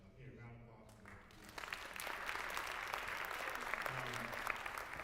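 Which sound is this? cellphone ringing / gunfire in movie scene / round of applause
round of applause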